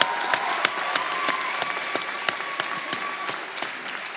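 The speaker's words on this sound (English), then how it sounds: "Could we give him a round of applause for that voice?" Steady audience applause fills a graduate hooding ceremony hall, dense clapping from a large crowd with sharper individual claps popping out, continuous and even for several seconds.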